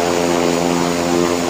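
A propeller airplane engine in the video game Airplane Sim 3D, running at throttle with a steady, loud droning hum and strong harmonic buzz, unbroken for the whole moment with no voices.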